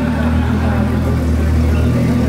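A VW GTI VR6 turbo engine running, a loud steady low idle rumble heard close up and continuous throughout.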